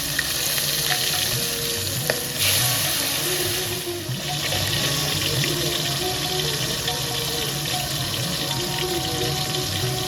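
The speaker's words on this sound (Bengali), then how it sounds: "এবার মা এক এক করে মাছগুলো হালকা ভাজছেন।" Pabda fish shallow-frying one by one in hot, lightly salted oil in a kadai, giving a steady, dense sizzle and crackle that runs the whole time, with a low background hum and no talking.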